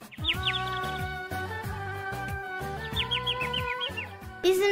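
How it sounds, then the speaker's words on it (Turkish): Bright, quick cartoon-style bird chirps in short bursts over a bouncy musical accompaniment, repeating twice with a pause between. "Bir kuş sesi geliyordu odadan."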